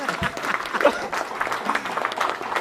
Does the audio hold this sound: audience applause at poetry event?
yes